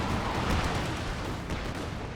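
Nebelwerfer rocket artillery firing in a World War II strategy video game, a dense, roaring wash of launches and distant blasts filling the whole stretch at steady loudness, with no speech.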